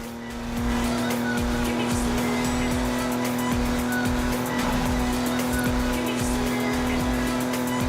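A Jaguar E-Type racing in Forza Horizon 4 with a steady loud engine drone and tires squealing through corners, continuous and close throughout.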